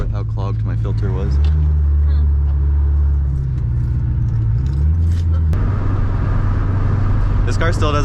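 A Ford Mustang drives with a low, steady engine drone and shifting rumble from inside the cabin, while a person talks over it.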